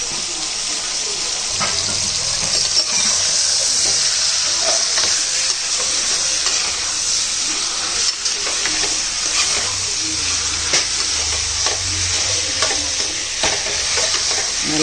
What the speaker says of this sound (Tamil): இப்போ இது வெங்காயம் வதங்கிச்சு.